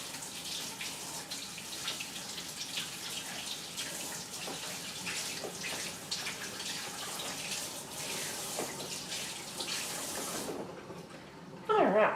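Tap water runs steadily over an onion being washed in a sink, a close, continuous splashing hiss that stops near the end with a brief clunk.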